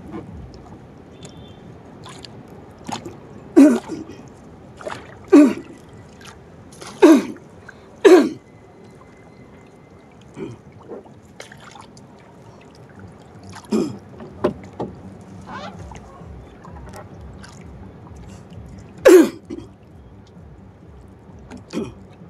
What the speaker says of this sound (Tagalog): Medyo inuubo tayo mga kabarski dahil namamalat po ang ating lalamunan.